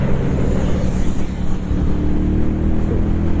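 Hero Maverick 440 motorcycle engine heard from the rider's position, a loud steady low rumble mixed with wind rush as the bike eases off and slows through a roadwork stretch.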